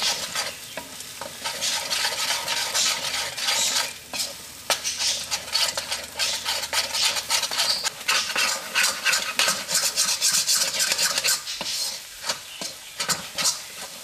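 Egg mixed fast in a pan for Thattukada-style chicken kothu chapathi: rapid, loud metallic scraping and clattering of utensils over a continuous sizzle, close and vigorous throughout with a short pause near the end and no talk.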